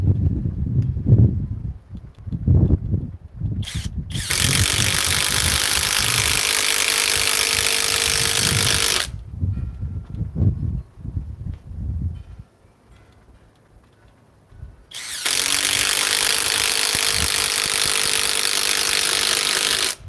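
Power tool driving 4-inch timber lock screws into wood: two long, loud, sustained whirring-grinding bursts separated by a quiet pause, with lighter handling knocks and clatter before and between.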